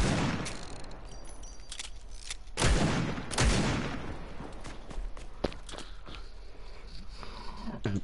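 Gunfire in the Fortnite video game: a few sharp, loud shot bursts stand out around the middle, with lighter clicks and steps scattered through a steady background.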